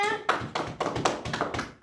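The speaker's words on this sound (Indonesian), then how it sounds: "tepuk tangan dulu buat anak-anak ibu semuanya" Children in a classroom clap their hands in a few loud, close, rhythmic bursts, about six groups of claps in quick succession.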